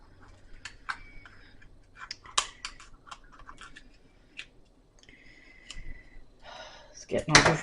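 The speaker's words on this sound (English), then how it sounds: "It's getting all over my scissors, though." Scissors snip a food coloring gel packet while making an Easter poke cake: sparse, sharp little clicks and squishy cuts close up in a quiet kitchen, ending in a louder rustling burst.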